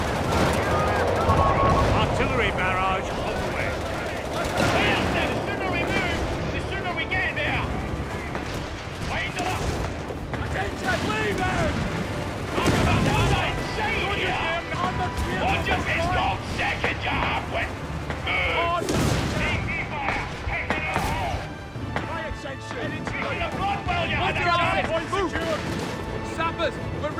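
Artillery barrage in Company of Heroes 3 game battle, a dense, continuous roar of booming shell impacts and rattling gunfire, loud and layered throughout, with shouted voice lines mixed in.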